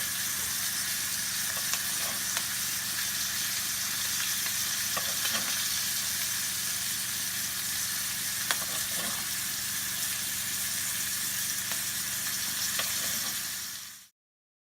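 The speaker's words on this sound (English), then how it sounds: "Now we're gonna put some butter on the top of the steak." Steak frying in a pan with butter, garlic and thyme, giving a steady, close sizzle and hiss that runs unbroken for about fourteen seconds, with faint utensil clicks now and then and no talking.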